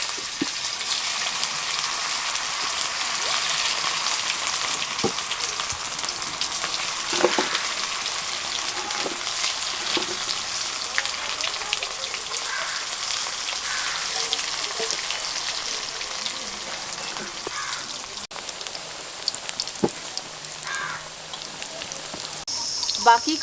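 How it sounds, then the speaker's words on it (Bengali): Stuffed spiny gourd (kakrol) fries in oil in a pan with a continuous rain-like sizzle and crackle, steady and close, with a few sharp clicks of utensils. "এইভাবে বাকি কাঁকরোলগুলিও ভেজে নেব।"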